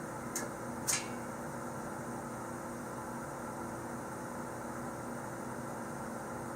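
An air compressor on a well pressure tank setup runs with a faint, steady mechanical hum and hiss, with two brief clicks near the start.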